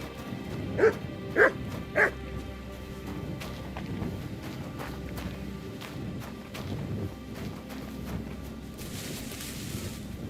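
A dog barks in the medieval video game Kingdom Come: Deliverance 2, giving three sharp, evenly spaced barks at moderate distance against a steady ambient background, with no speech.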